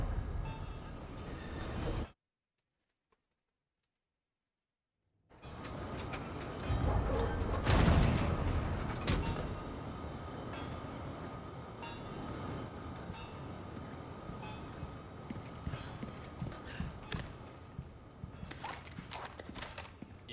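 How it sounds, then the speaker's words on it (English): Tram in Resident Evil 4 rolling on rails, a steady rumbling clatter with rhythmic wheel clicks and occasional metallic squeals, briefly cut to silence before resuming and carrying on for many seconds. "so we're just going to take the tram back"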